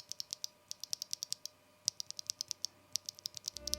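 Rapid keystrokes on a mechanical keyboard fitted with factory-lubed RAMA Duck five-pin linear switches with Cherry MX-style stems, a steady run of crisp, close clicks with brief pauses, alone in a quiet room.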